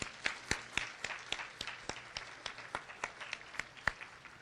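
A room applauds the commissioners at an AARP-hosted public meeting on long-term care services, distinct individual claps ringing out in an irregular, moderately paced patter from a modest crowd.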